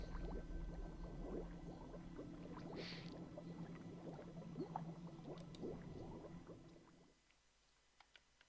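Water starts flowing in a video game, a steady rushing, bubbling wash under faint ambient tones for about seven seconds, then cutting off to near silence with a few soft ticks.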